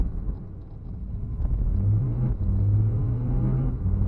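A supercharged Kubota diesel engine running in a car on a road test, throttle held steady near 70 percent, giving a continuous low rumbling drone with a sustained engine tone that rises slightly and holds, no talking.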